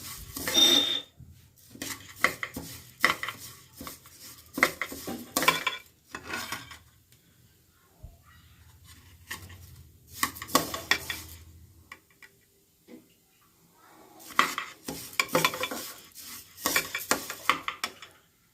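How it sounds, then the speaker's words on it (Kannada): Split mung bean dish stirred in a pan over a low flame, a spoon scraping and clinking against the metal in short, repeated bursts separated by quiet pauses, close by and moderately loud. "ಸಿಮ್ನ ಲೋ ಫ್ಲೇಮಲ್ಲೇ ಇಟ್ಕೊಂಡು ಸಣ್ಣ ಉರಿನಲ್ಲೇ ಕೈ ಆಡ್ತಾ ಇರಬೇಕು"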